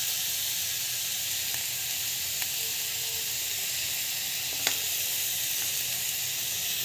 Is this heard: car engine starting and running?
no